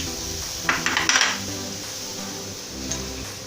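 Chopped onions, carrots and cabbage being mixed in a pan for veg momo filling, a short run of scraping, clattering utensil strokes in the middle, then quieter stirring under faint background noise.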